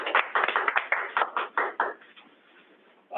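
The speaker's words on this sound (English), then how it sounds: "Let's give him a round of applause." A small audience claps for a presenter, a sparse patter of distinct hand claps that thins out after about two seconds and fades away.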